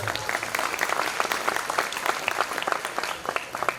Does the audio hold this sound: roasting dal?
no